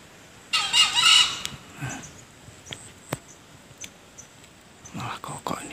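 A junglefowl rooster crows once nearby, a harsh rising call lasting about a second, followed by scattered clicks and a shorter second burst of squawking.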